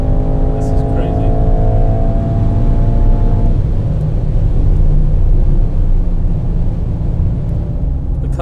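Mercedes-AMG car at speed on a road trip from London to Affalterbach, heard as a loud, steady interior engine and road drone with harmonic hum easing after a few seconds, continuous throughout.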